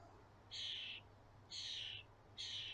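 A baby starling gives three harsh, hissing squawks begging its parents for food, repeating about once a second, each lasting around half a second, against quiet background noise and a low hum, on an allotment.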